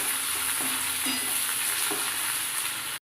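Chopped onion fries in hot oil with cumin in a kadai. A continuous bright sizzle is joined by a few soft scraping stirs, and no one speaks.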